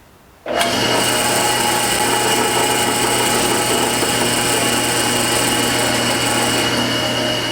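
English wheel anvil polished in a metal shop with 4/0 abrasive after Scotch-Brite, driven by a power tool that starts abruptly and keeps a loud, steady whirring hum for several seconds.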